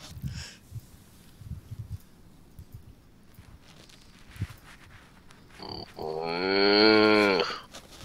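A person's voice imitates a cow, giving one long, drawn-out moo near the end after quiet rustles and soft thumps.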